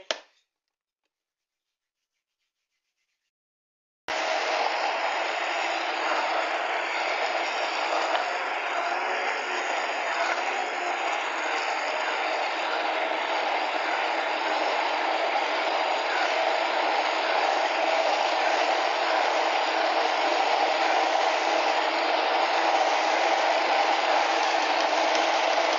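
A blender runs steadily on banana cupcake batter, a continuous loud whirring drone that starts after a few seconds of silence and holds without pause to the end.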